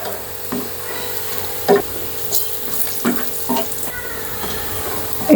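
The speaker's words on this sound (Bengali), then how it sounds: "আর একটু ভেজে উঠিয়ে নেব" Sliced onions frying into crisp golden beresta for cauliflower korma, a steady close sizzle broken by occasional scraping stirs of the spatula in the pan.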